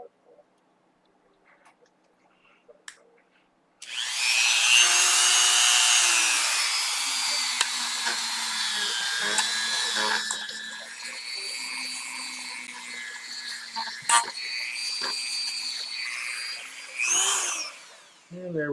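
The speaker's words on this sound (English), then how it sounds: "Get the Dremel." A Dremel rotary tool whines steadily at close range while working on an old 1980s Kramer Focus 2000 guitar body, running for about fourteen seconds with small shifts in pitch before it stops.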